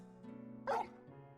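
Torgal, a Frostwolf hound in the video game Final Fantasy XVI, gives a single short bark over a steady low game soundscape, fairly close and clear.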